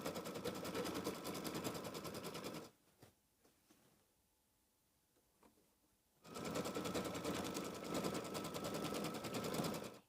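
An embroidery sewing machine stitches a placement outline in golden thread for a quilt block, running as a loud rapid buzzing clatter. It pauses for about three seconds of faint handling clicks, then starts up again.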